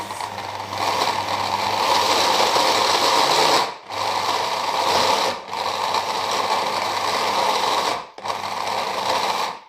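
A food processor whirs loudly in three long bursts separated by brief pauses, a steady high-pitched whizzing motor, blending ANZAC biscuit ingredients.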